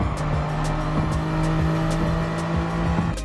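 A Gran Turismo 7 Group 3 race car on the Tokyo Expressway circuit accelerating hard under full throttle, its engine note steady and loud as it climbs through repeated gear shifts, with a brief tire squeal, no voices.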